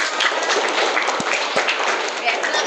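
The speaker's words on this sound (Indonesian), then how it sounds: "Tepuk tangan untuk kita semua" Classroom applause from students at the end of a lesson, a brief, busy patter of many hands clapping together at moderate loudness, with a couple of sharp thumps.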